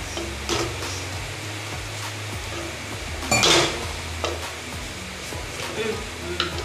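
Chopped ginger sizzles in a pan on a gas stove for a Mangalore-style black pomfret fish curry, a steady close frying hiss with occasional spatula scrapes and one louder stir.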